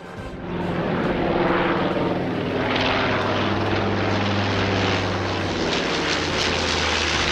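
B-25 bomber engines in a re-enacted wartime newsreel roar in with a loud, steady propeller drone that swells quickly and holds, a deep throbbing hum with no voices over it.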